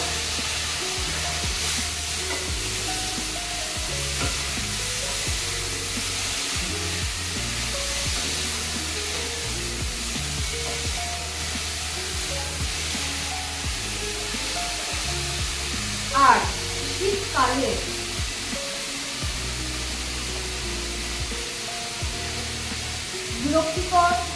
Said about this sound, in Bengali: আলুটাকে একটু লাল লাল করে ফ্রাই করে নিই